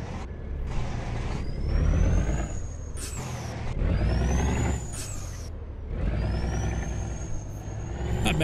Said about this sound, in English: Really like how this truck sounds. It's got kind of its own unique sound,